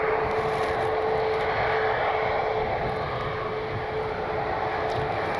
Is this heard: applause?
no